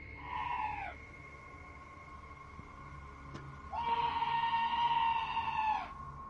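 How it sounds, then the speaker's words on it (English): Outside a trailer door, an eerie, drawn-out wailing scream sounds twice: first a brief cry, then after a pause a longer, louder one that falls away at its end. "This scream sounds like chills made audible."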